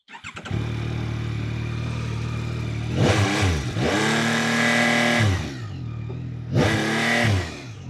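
A 2026 Yamaha Tracer 9 GT motorcycle engine revs hard and bounces off its soft limiter in repeated bursts, with a steady close idle between the loud rising and falling sweeps and no voices.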